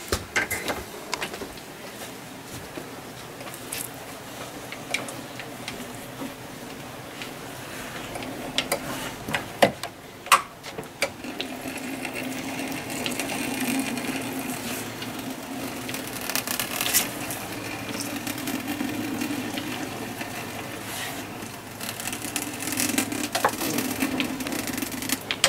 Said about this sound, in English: Okay, 5-1 machine, gonna squeeze her down and trim her off.